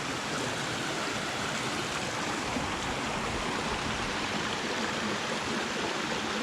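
A waterfall pours over slippery rock on a hiking loop in Baxter State Park, a steady, even rush of water that fills the scene at close range without pause.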